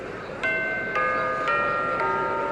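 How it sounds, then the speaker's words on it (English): A bell in the Bravely Second: End Layer game rings out in four evenly spaced, ringing strikes whose tones overlap and linger, heard clearly and alone. "Well, there's the bell."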